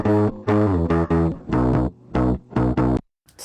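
Dry guitar part with no chorus effect, a few short rhythmic chord stabs in a repeating pattern, clear and upfront, ending with a brief gap.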